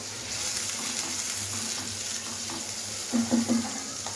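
A paste of tomato, onion, garlic and ginger frying in a pan gives a steady watery sizzle, with a few louder spattering bursts near the end and no voices.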